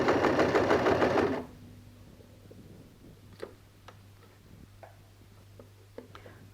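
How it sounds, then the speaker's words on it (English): A sewing machine stitches along bias binding on a bow-back dress at stitch length 3, whirring loudly for about a second before stopping, then quiet ticks and small handling clicks follow. "I'm going to sew on top of the binding just to make it easier for you"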